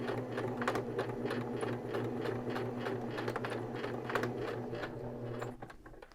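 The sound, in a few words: sewing machine back stitching across fabric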